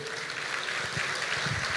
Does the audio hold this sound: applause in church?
yes